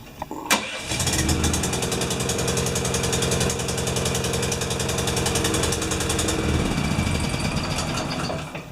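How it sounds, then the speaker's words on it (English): A Honda GX390 pump engine starts after a sharp pull and then runs rough, a loud, close, steady chugging drone with uneven pulsing and a slight sag near the end. "So it starts, it's acting like the choke is on, but the choke is off."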